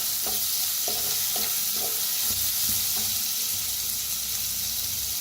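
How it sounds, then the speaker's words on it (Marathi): Ground spice paste with asafoetida roasting in a pan, a constant close sizzle overlaid by a series of quick scraping stirs at the start that then ease off into steady frying, no voices. "आता भाजून घेऊया."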